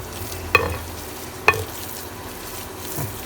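Fried onions tipped into a pot and stirred, with two sharp clatters of a spoon against the pot and a soft scraping stir after them. There is no talk.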